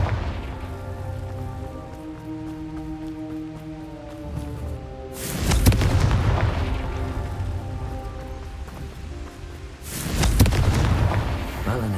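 Two heavy Confringo fire-spell explosions in the Hogwarts Legacy game, each a loud broadband boom with a rumbling tail, separated by a quieter stretch of game music.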